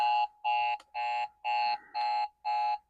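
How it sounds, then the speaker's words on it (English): A big digital alarm clock going off with six loud, evenly spaced electronic beeps, each a bright buzzy tone lasting about a third of a second, separated by short silences. "Oh, the alarm is going off."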